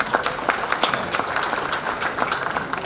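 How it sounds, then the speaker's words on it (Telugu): Audience clapping in a hall at a Jai Kisan cabinet installation event, a steady wash of many hands with sharp individual claps popping through, fairly close and sustained without pause. "మీకు మనస్ఫూర్తిగా అనిపిస్తే ఇంకోసారి బాగా చప్పట్లు కొట్టండి"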